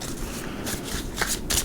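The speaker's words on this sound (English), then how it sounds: "2 more shuffles, 8-card spread." A deck of tarot cards is riffled and shuffled by hand in quick, crisp bursts close by, with papery flutters and snaps and no talking.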